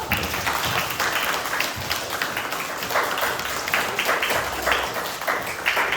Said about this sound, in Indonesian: Semuanya tepuk tangan dulu yuk.